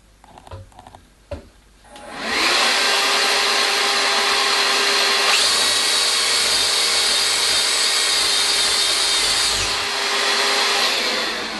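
A hand vacuum fitted for dust extraction whines steadily while a drill bores into a piece of wood, a loud sustained roar that shifts pitch midway, following a few faint handling knocks.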